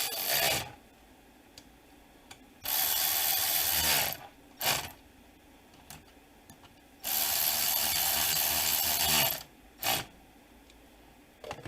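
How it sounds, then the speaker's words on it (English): A ratchet tightens screws on a 2002 Ford Mustang window motor in five rapid clicking bursts, two long runs and three short ones, close and loud, with quiet pauses between. "We'll go ahead and put the screws back in."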